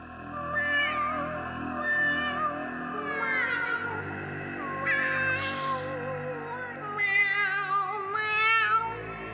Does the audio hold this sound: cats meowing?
yes